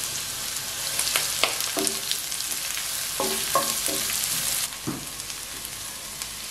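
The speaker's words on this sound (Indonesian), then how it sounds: "Kita tumis bawang merah." Shallots sautéing in leftover oil from scrambled eggs in a pan, a continuous loud close sizzle with intermittent stirring scrapes and clinks, no speech.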